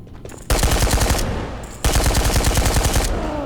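Rapid automatic rifle fire from the video game Ghosts of Tabor, two loud sustained bursts of rhythmic shots separated by a brief pause, close and dominant with no talk over it.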